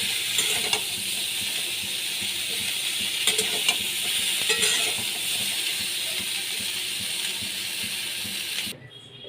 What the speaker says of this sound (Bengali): ফুলকপিগুলো ভেজে নিয়েছি